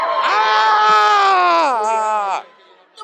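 A woman lets out one loud, sustained, high-pitched scream lasting over two seconds, wavering slightly in pitch before cutting off into near silence.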